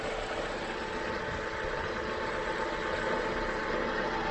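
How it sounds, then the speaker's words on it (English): A Vauxhall Corsa engine idles close by, a steady mechanical hum with a faint ticking chatter from the injectors and a light rattle from a loose cover, constant throughout without talk. "I can just hear a little bit of injector chatter, which is very common on these"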